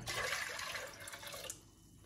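Half a litre of cold water poured into a cooking pot, a close splashing gush that runs for about a second and a half before cutting off.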